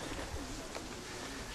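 A homing pigeon coos softly over steady outdoor background noise during the return of young birds at a loft in September, with no talk.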